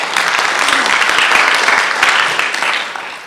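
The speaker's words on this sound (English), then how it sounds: "Clap it up for Anna Colosi." Audience at a school board meeting applauding a student in a criminal justice class, a sustained burst of many hands clapping that swells in the middle and tapers slightly at the end.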